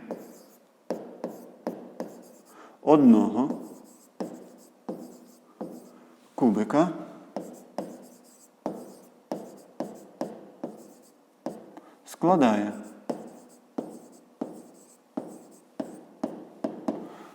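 Pen scratching on paper as math calculations for a cube's volume are written out by hand in a fifth-grade lesson, in quick repeated strokes with a few longer scrawls, under a teacher talking throughout.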